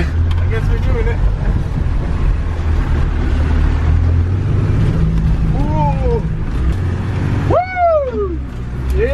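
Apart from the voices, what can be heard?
Land Rover Defender drifting off road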